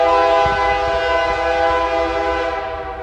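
A passing train sounds a loud, sustained, multi-tone horn blast close by, with the low rumble of the rolling cars beneath it, and the horn fading slightly at the end.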